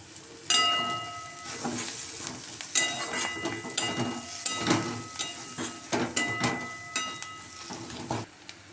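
Dry grated coconut and masala sautéing in a pan for Maharashtrian aloo rassa, with steady sizzling broken by repeated spoon scrapes and clinks against the metal, close and continuous.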